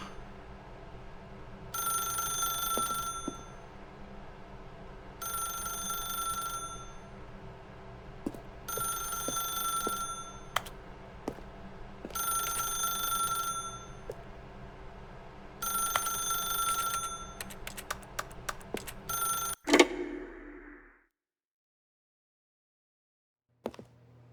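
An old-style telephone bell rings in The Stanley Parable: Ultra Deluxe video game, five evenly spaced ringing bursts, then a run of quick clicks and a thud before near silence.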